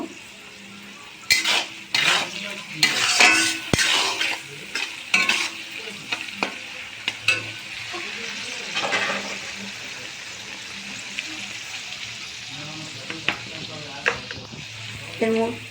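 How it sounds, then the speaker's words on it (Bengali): Cashews and raisins frying in a pan, stirred with a utensil: a steady sizzle under repeated scraping and clinking of metal against the pan, the stirring loud and irregular in the first half and quieter later. "যে কাজু কিশমিশটা রেখেছিলাম আমি ওইটাকে একটু দিয়ে ওর সাথেই একটু ভেজে নেব।"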